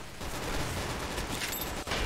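Gunfire from a weapon in the Roblox game Arsenal: a dense burst of repeated shots rattling at moderate volume with no pause, ending with a short break and another shot.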